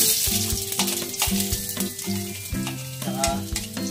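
Onion and ginger sautéing in a pan, a steady close sizzle broken by scraping stirs, with a faint tonal hum running beneath.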